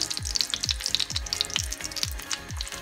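Loud, close sizzling of tuna frying in a pan, with crackling pops and a regular series of soft dull knocks underneath.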